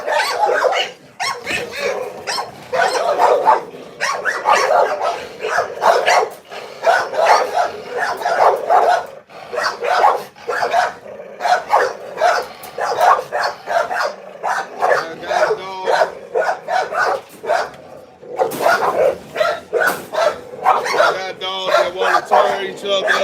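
Several kennel dogs bark loudly and continuously, overlapping in rapid volleys with yips and whimpers, close by and almost without pause, with brief lulls before the barking surges again.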